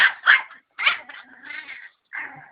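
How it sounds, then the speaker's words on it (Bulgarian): A pet dog barks on command indoors, giving a few sharp, close barks and yips with short pauses between, ending in a softer whimpering bark. "Дай глас, излай."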